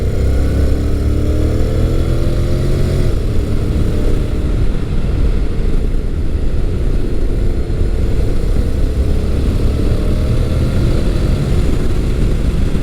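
Honda NC700X motorcycle riding on a scratchy gravel road in sport mode, its engine a steady, loud drone with low rumble and rising-pitch harmonics as it accelerates, with continuous road and wind noise and no talk.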